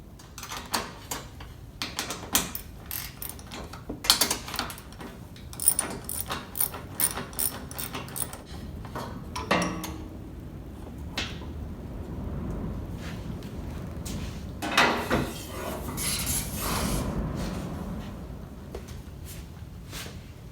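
Bolts on the side panel of a John Deere 3025E compact tractor being loosened with a 10mm socket ratchet and wrench, giving repeated close ratcheting clicks and metallic clatter in irregular bursts over about twenty seconds, with no talk.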